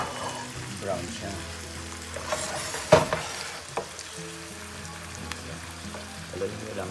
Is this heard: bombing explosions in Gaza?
no